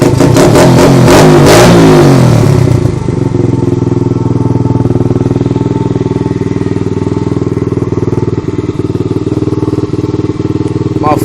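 A 125cc dirt bike with gold exhaust pipes revs hard right after being kick-started. The engine roars loud and close, with choppy rising revs at first, then settles into a steady, throaty rumble that runs without a break.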